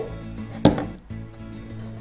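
A single sharp crack of an egg being broken for a potato tortilla, a close, loud knock against a hard edge followed by a brief splat, with quiet kitchen background before and after.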